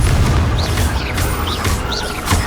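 Confringo fire spell blasts in Hogwarts Legacy, producing loud booming bursts over a dense, roaring game soundscape with a few whooshing streaks, continuous and close throughout.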